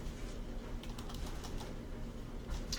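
Fingers tapping a computer keyboard to type a search, a quick run of faint clicky keystrokes over a soft room hum.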